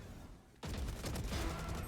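Gunfire in Valorant during a college esports match, a sudden burst that cuts in sharply after near silence and carries on as a rapid, crackling volley of shots.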